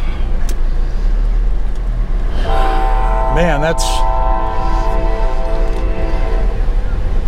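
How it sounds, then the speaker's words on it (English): A train passes close by, its heavy rumble steady throughout and a loud horn blast sounding partway through, with someone speaking briefly. "Well, at least I beat the train."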